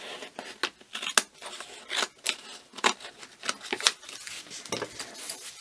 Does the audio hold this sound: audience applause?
no